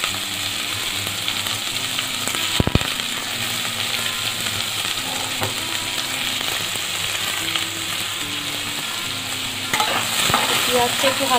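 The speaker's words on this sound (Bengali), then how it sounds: "পেঁয়াজটা একটু হালকা ভাজা ভাজা করে নিই" Onions are lightly frying in a pan and give a loud, continuous sizzle with a low hum underneath and a few sharp clatters near the start, with no voices present.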